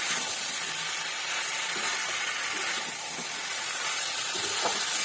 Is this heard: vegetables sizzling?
yes